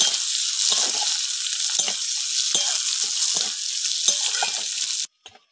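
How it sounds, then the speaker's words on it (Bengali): Chopped onion fries in hot oil for a Bengali tilapia and potato curry, a loud, continuous bright sizzle with occasional spoon knocks and scrapes, close up, ending suddenly. "পেঁয়াজটা এবার একটু ভেজে নেব।"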